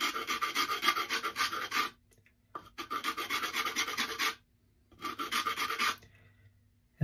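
Light rasping strokes rub across a sharpening stone to remove chips, three close bursts of steady back-and-forth scraping separated by short silences.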